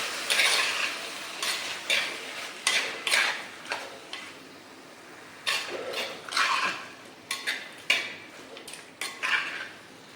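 Bone-in pork pieces stirred in a pan, a series of close metallic scrapes and clinks of a spoon against the pan in an irregular rhythm, with little sizzle.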